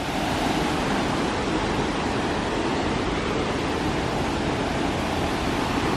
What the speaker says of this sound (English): And you can see where the water's running right there.